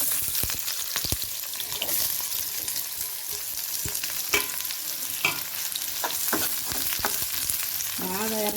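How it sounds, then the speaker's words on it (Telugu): Thinly sliced onions fry in hot oil, giving a steady close sizzle with intermittent scraping stir clicks and a brief metallic scrape near the end. "బాగా ఎర్రగా వేగే వరకు వేయించుకోవాలి."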